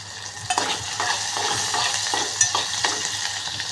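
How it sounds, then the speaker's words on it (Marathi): Onion and tomato fry in a pan with a steady broadband sizzle, punctuated by regular scraping strokes of stirring at close range, with no voices. "चांगलं भाजून घेऊया हे। कारण की ना कांदा तेवढा चांगला भाजणार ना"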